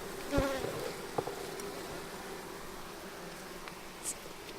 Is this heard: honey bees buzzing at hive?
yes